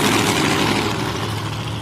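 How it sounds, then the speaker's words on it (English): A loud, continuous roar of a dragster engine doing a burnout at South Coast Raceway, with broad hissing noise of tyres spinning, steady for the whole moment. "Beautiful big burnout."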